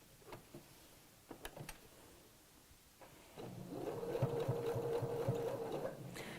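A sewing machine tacks a folded fabric loop in place just inside the seam allowance, starting after a few soft handling clicks and then running steadily and close for about three seconds.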